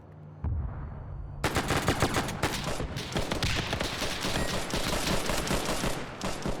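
Sustained machine gun fire in a Korean War video game, a loud, dense rapid rattle of shots running continuously after a brief quiet start.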